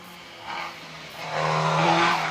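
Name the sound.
Caterham race car with 1600cc bike engine at hill climb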